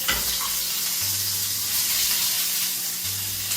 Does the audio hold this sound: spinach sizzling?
yes